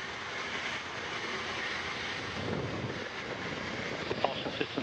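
Antares rocket launching from the Mars pad and climbing away, heard as a steady distant broadband roar with wind noise throughout and no talking.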